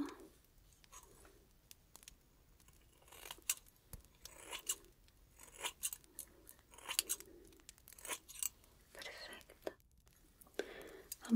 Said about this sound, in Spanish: Voy a comenzar entonces ahora con el corte.